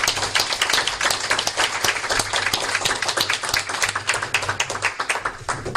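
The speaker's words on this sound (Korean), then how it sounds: "우리 한번 박수로" Church congregation applauding a pastor and his wife as they stand, dense sustained clapping from many hands filling the room at steady loudness throughout.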